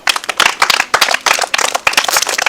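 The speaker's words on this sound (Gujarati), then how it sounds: "એકવાર ફરી પાછી રુદ્રકુમાર માટે તાળી પાડો" A crowd at a Ganesh festival gathering bursts into dense, loud applause for a young boy who has just won, many hands clapping together in a thick, continuous patter.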